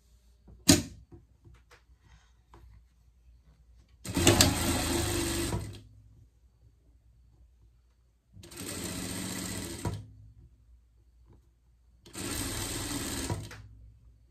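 A sewing machine stitching a Christmas pet costume runs in three close, loud bursts of rapid whirring, each lasting one to two seconds. Quiet pauses fall between them, and a sharp click comes near the start.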